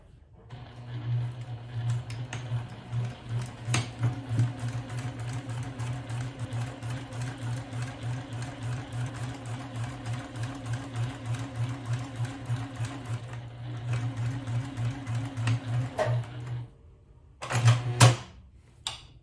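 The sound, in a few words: sewing machine stitching fabric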